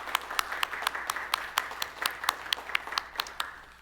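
Church congregation at a Sunday service applauding a departing minister as flowers are presented, a light round of fairly regular separate claps under a faint background hum, thinning out at the end.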